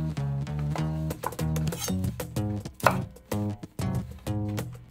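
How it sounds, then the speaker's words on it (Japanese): A knife slices green onion on the diagonal, giving a run of quick, close chopping taps under steady background music. "ネギは適当に斜め切り。"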